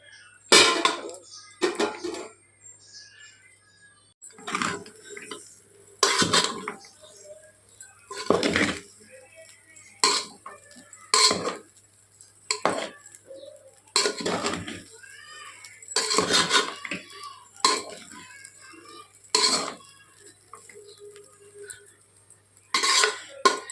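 Leftover cooked rice is stirred in a metal pan, producing loud, evenly spaced scraping and clanking strokes of a spoon against the pan, with quiet gaps between them.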